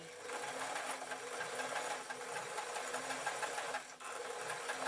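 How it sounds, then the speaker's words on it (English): A sewing machine stitches a blouse in a continuous, even mechanical run at a fast rhythmic clatter, with a brief dip near the end before it carries on. "then I am going to start sewing"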